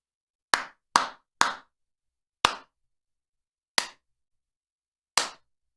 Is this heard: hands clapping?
yes